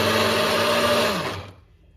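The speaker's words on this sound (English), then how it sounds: "So all these nuts, seeds and spices are lightly toasted. So I'm going to grind them into a powder" A grinder whirs loudly and steadily as it pulverizes lightly toasted nuts, seeds and spices into powder, then its motor winds down and stops near the end.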